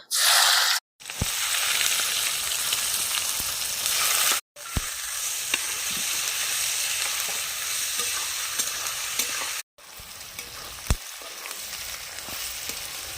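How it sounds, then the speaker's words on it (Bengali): Onions sizzle steadily in hot oil for a village-style chicken biryani, a loud, dense frying hiss that cuts out briefly three times, with occasional clinks of a utensil against the pan. "পেঁয়াজের বেরস্তাটা ভেজে নেব"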